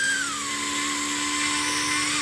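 A Yu Xiang Wolfbush F11 Apache RC helicopter lifts off with a loud, steady high-pitched motor whine and rotor buzz that slides slightly lower in pitch as it climbs, close by and continuous.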